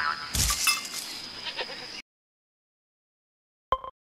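A cartoon goat bleats loudly up close, followed by silence and then a short second sound at the end.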